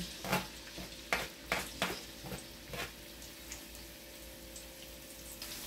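Garlic being added to hot oil in a pan for pork igado, with a few soft sizzles and stirring scrapes near the start that fade into a low, steady fry.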